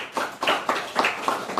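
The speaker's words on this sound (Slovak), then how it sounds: "Poprosím potlesk pre našich hostí." A few people clap in a rhythmic, sparse pattern for guests at a literary evening, with about seven distinct claps heard close and alone, no voices.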